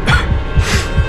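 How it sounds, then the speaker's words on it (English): Two or three rough coughs in quick succession, close and loud, from a character in the Heavy Rain video game, with no other sound between them. "What are you coughing for?"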